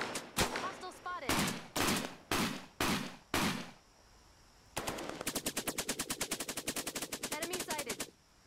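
Machine gun fire in the video game Cepheus Protocol begins as a series of short, loud bursts. After a brief pause comes a long rapid automatic stream of evenly spaced shots, close and sharp, with faint voices in the background.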